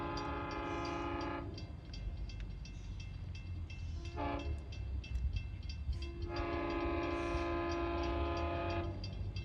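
A Long Island Rail Road train rumbles past a crossing at Northern Boulevard with a loud horn sounding in long blasts, a short toot in between, over the steady roar of the cars.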